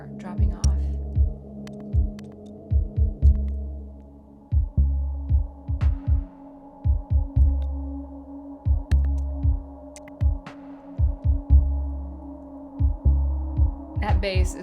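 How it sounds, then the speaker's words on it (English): A deep bass line from an unfinished electronic track pulses in short repeated throbbing notes, steady and prominent, over a soft sustained hum and faint bell tones. "That bass is gonna sound good."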